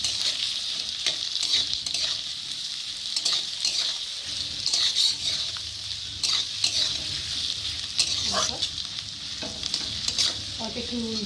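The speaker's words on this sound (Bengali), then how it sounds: "পেঁয়াজটা দিয়ে একটু পেঁয়াজটা একটু ভালো করে ভেজে নেবো" Chopped onions sizzle in hot oil as a spatula stirs and scrapes the pan in repeated strokes, a close, busy crackle with regular scraping taps and no talking.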